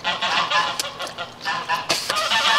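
Broody domestic goose honking repeatedly and loudly close by, a run of harsh nasal calls with a louder burst near the end, no talking.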